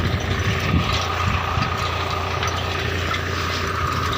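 A tractor engine drones steadily and low at close range in a sesame field, rumbling evenly without pauses.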